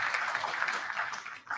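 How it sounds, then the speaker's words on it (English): A crowd at a summit applauds gold medal winners honoured on stage, a continuous wash of many hands clapping at moderate volume that dips briefly near the end. "A big round of applause for them once again."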